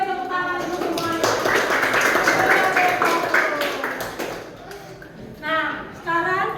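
Indonesian classroom of seventh-grade students clapping hands together on cue, a dense, busy patter of many palms at close range that fades out, followed by a few scattered claps and voices.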